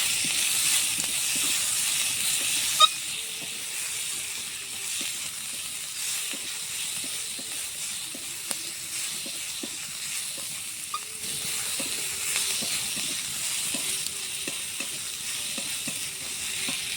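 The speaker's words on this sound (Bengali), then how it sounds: "তেলের মধ্যে দিয়ে দেব পেঁয়াজ কষি বেশ কিছুটা দেব পেঁয়াজ দিয়ে নাড়াচাড়া করবো" Onions fry in oil in a pan and are stirred now and then for a prawn curry. A steady hissing sizzle runs throughout, with repeated scraping and tapping stirs over it and no voices.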